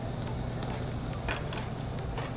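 Beef tripe sizzles steadily on a grill at a Korean barbecue restaurant, a close, continuous crackling hiss with a few sharper pops, and no talk over it.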